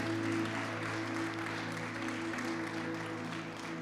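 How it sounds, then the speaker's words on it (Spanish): Church congregation applauding during a worship service, a steady, sustained wash of clapping throughout with faint tonal hum from the room beneath it, no speech on top. "Dar un aplauso al Señor Jesús."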